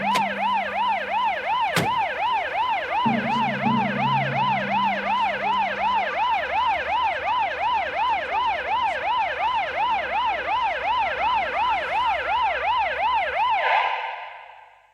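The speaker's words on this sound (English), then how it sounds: "Ambulance." An ambulance siren in a TV comedy episode wails in a fast, regular up-and-down warble, loud and sustained for about fourteen seconds before cutting out abruptly, with a sharp bang near the start.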